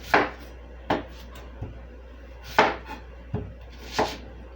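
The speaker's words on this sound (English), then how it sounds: "we're gonna cut up our onions" A knife chops candy onions on a cutting board, about seven separate sharp thuds at an uneven, unhurried pace, close and clear with a faint low hum underneath.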